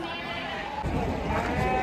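Goats and sheep bleat at the crowded Chakan livestock market in Maharashtra, a dense, continuous din of animal calls with busy market murmur underneath.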